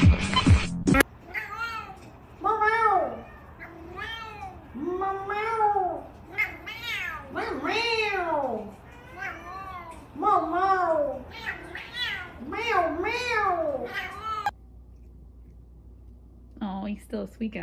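A voice imitates a cat, meowing repeatedly in drawn-out, rising-and-falling cries, closely miked, with short pauses between.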